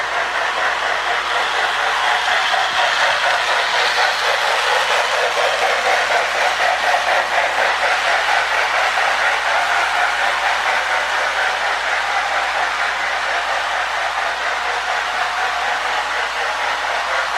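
Rebuilt Marx 333 toy steam locomotive running smoothly around its track: a steady, loud whirring motor drone with a faint rapid rhythmic clatter, unbroken throughout.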